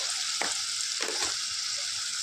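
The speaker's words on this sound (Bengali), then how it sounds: "এবার আমি কড়াইয়ের মধ্যে এই বেটে রাখা পেস্টটা দিয়ে দিলাম" Ground spice paste sizzles in a hot wok for a vegetarian soya chunk curry, a steady loud hiss with two brief louder bursts as the paste hits the oil and is stirred.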